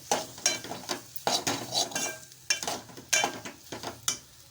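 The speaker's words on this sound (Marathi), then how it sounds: "आता मिश्रण छान मी एकजीव करून घेत आहे" Spiced potato filling with turmeric and salt is stirred in a pan on the stove, with repeated scraping and clinking strokes of the spoon against the metal in a steady rhythm, close and fairly loud.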